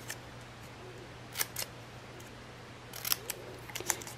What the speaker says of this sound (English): so I'm going to snip this here